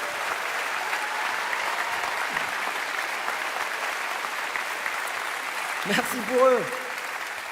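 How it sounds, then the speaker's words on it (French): Sustained audience applause for a stage show's technical team fills the hall at an even level, with a brief spoken thanks near the end over the fading clapping. "J'aimerais qu'on applaudisse toute l'équipe"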